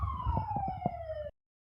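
A police siren wails in a video game, one steady falling tone with low rumbling underneath that cuts off abruptly after about a second and a half, close and clear.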